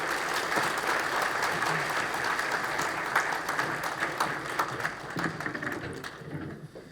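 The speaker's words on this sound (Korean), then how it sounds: "다시 한번 큰 박수로 환영해 주시면 감사하겠습니다." A church congregation at an evening revival meeting applauds to welcome a visiting pastor, steady sustained clapping throughout that tapers slightly near the end, with some crowd noise mixed in.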